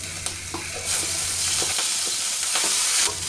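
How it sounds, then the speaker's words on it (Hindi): Ginger garlic paste and green chillies fry in oil in a wok, giving a steady close sizzle with occasional stirring scrapes and clicks throughout. "कढ़ाही में थोड़ा और तेल डाल देंगे, अदरक लहसुन का पेस्ट डाल देंगे, मिर्च डाल देंगे"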